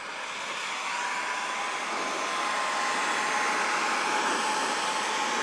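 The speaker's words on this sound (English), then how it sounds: "So again, we'll go back with that heat gun." A heat gun blows with a steady, loud whooshing hum while softening vinyl on a 2018-2023 Jeep single-piece grill inlay, running continuously without speech.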